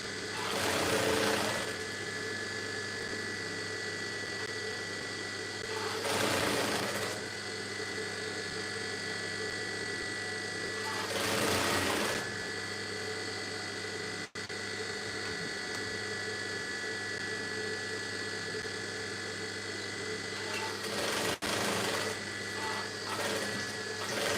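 Near and steady, a sewing machine stitches an iro and buba garment in one long continuous run, its hum swelling briefly every few seconds as the stitching speeds up, with no voices over it.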